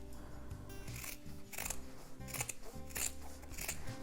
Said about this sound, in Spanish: ahora lo único que tenemos que hacer es ir recortando todo el contorno